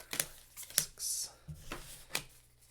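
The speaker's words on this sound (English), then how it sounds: "And almost the same cards after shuffling." Playing cards from a deckbuilding card game shuffled on a table, a quiet run of short riffling flicks and soft taps in a still room.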